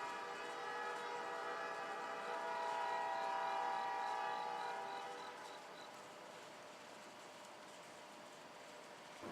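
CSX freight locomotive 994, running light with no cars behind it on the Chattanooga line, passes at a distance with a steady engine rumble and a long sustained horn blast that swells and then fades.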